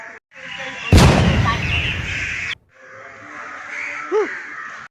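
A firecracker set off during Vishu celebrations bursts once, loud and near, with a sharp crack and a decaying rumble lasting over a second, followed by a brief quiet, low background noise and a short bird-like call.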